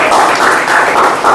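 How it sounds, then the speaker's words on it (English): An evening program audience gives a big round of applause, a loud, continuous wash of clapping heard up close, brief and unbroken. "Yeah, big round of applause."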